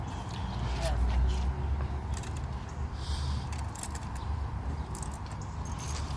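Hand wrench working the 1/2 inch wire nut on the alternator of a 1999 Grand Marquis during a swap from a 135 amp to a 200 amp unit, with faint metallic clicks and clinks over a steady low garage rumble and no talk.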